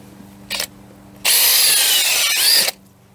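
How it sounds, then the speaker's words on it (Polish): A cordless drill with an auger bit boring into garden soil for planting bulbs gives a brief burst, then runs steadily for over a second with a gritty grinding tone before stopping abruptly. "Zakładamy go na wiertarę i lecimy."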